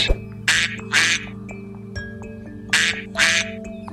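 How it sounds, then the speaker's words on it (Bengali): A cartoon duck quacks in a Bengali animated moral story, four loud nasal quacks in two pairs, evenly spaced over a steady background music bed. "আহারে, কত সুন্দর নাদুস নুদুস হাঁস।"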